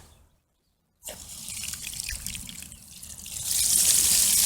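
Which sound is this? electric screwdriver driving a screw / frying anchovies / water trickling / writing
water trickling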